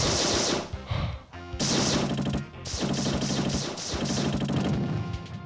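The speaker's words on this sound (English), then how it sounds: "the explosion killed me" Explosions and blasts in a Star Trek Deep Space Nine video game, a loud run of rapid, crackling bursts in repeated clusters with brief gaps between them, no voices over them.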